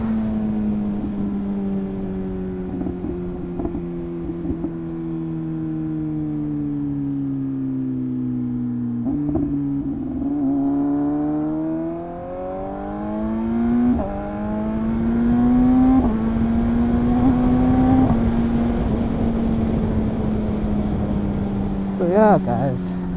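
A BMW S1000RR motorcycle engine drones steadily at cruising speed, its tone rising and falling with shifts, under continuous wind rush; the engine note holds close and fairly loud throughout.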